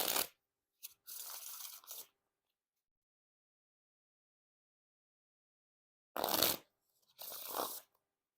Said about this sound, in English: And now time for the riffle shuffle or bridge shuffle.